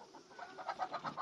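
Old hen at a village home in Nepal, a faint quick series of soft rhythmic clucks lasting about a second.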